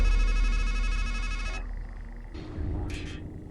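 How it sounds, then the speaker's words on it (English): A telephone rings in the video game Strangeland, a bright electronic ringtone with steady tonal bursts that cuts off partway, followed by low rumbling ambience and a short high tonal blip. "Let's answer the phone."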